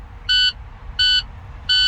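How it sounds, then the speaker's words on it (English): A truck's low air pressure warning buzzer sounds three times at 60 psi in an even rhythm, each tone about a quarter second long, over a low engine rumble. "My buzzer and my alarm came on at 60 psi"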